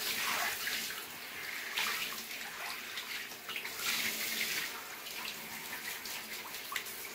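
Water runs steadily from a tap while a Yorkshire terrier is bathed, a continuous close splashing stream with small irregular splashes and drips and no talking.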